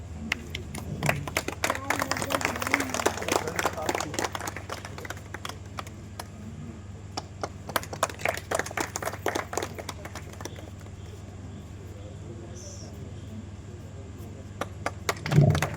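Group clapping at a small birthday gathering for the manager of a shelter home, dense claps in the first half that thin to scattered claps, with voices talking over a steady low hum.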